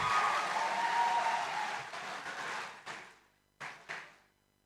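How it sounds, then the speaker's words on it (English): A graduation ceremony audience applauds the IBDP class of 2025 at a school, steady full clapping that fades after a few seconds, followed by a couple of short isolated bursts of claps. "let us give a round of an applause to our graduates of IBDP class of"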